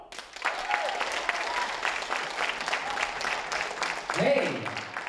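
An audience at the Christinateatern breaks into steady, full applause as a band is introduced, the clapping dense and continuous, with a voice briefly rising over it near the end.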